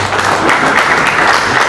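Dense applause from an audience honouring Mr. Bala at a Kenyan cricket election manifesto event, a steady loud wash of clapping with no pauses, heard alone.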